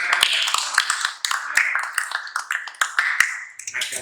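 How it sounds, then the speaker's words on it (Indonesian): Students in a classroom clap their hands for a classmate, a sparse, uneven scatter of close, sharp claps by a small group, pausing briefly and then continuing. "Tepuk tangan untuk saudara kalian."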